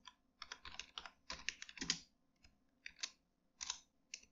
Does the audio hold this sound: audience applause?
no